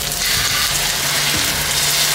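Beef and sliced onions with extra vegetables fry in a hot pan, a loud, dense, continuous sizzle heard up close with no talking.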